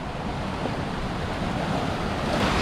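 Sea waves wash steadily onto an empty beach at sunset, a continuous soft roar of surf with light wind buffeting the microphone, growing slightly louder toward the end.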